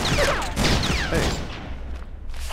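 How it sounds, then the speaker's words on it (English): Gunfire in the video game Red Faction, a quick cluster of sharp shots with whooshing sweeps in the first second and a half, then a quieter rumbling tail. "Are you shooting at me?"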